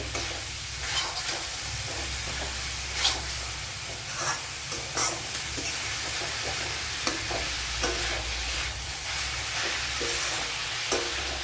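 Onions with salt frying steadily in a pan for a home-style chicken curry, a continuous close sizzle with scattered scraping stir clicks, no voices.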